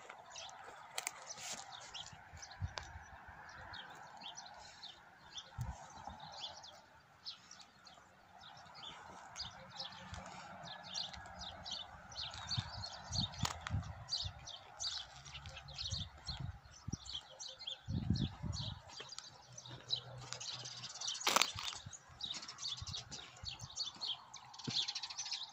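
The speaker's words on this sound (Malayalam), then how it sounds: "നിറയെ കുരുവികൾ കേട്ടോ ഇവിടെയൊക്കെ." Sparrows chirp in the morning around a village in Saudi Arabia, many quick overlapping tweets in bursts at close to middle distance, with occasional wing flutters, rustles and handling knocks underneath.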